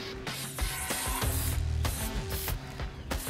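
Aerosol spray can painting in the game InFAMOUS Second Son, short hissing spray bursts repeating in quick succession, fairly loud and close, with no talking.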